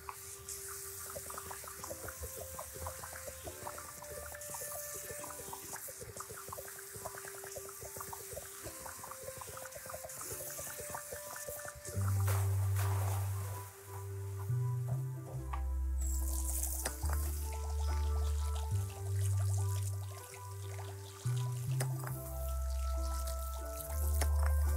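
Water trickles and drips steadily outdoors in the Alps, then heavier pouring splashes with low gurgling surges come in and out for the rest of the stretch.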